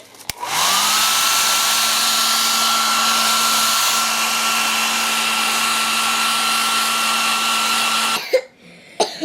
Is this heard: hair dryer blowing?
yes